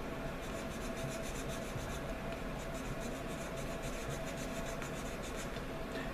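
A knife or blade scrapes and rasps steadily against a wooden arrow shaft while notch wedges are cut into it, producing a continuous close, dry rubbing texture with no voices.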